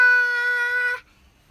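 A single short, steady, tonal meow from a voice imitating a cat, ending abruptly into silence.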